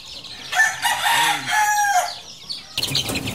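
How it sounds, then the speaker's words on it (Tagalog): A rooster on a gold chicken farm crows loudly and close, one long drawn-out call followed by more flock noise from other birds. "Tandang na halos lahat yan."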